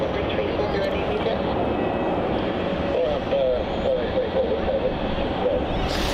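A plane lands at Melbourne Airport in a crosswind, its engine roar loud and steady throughout, a broad rushing drone heard from a spotting position with no clear voices over it.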